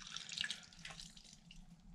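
Water drips and splashes faintly in a basin while a car's cold air intake filter is washed, soft irregular trickling with no talking.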